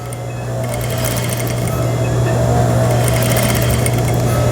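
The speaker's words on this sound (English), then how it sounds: "and then I'm going to sew up this side" A sewing machine runs steadily and close, stitching up the side of a railroad zipper in one continuous loud hum with a rapid mechanical needle rhythm throughout.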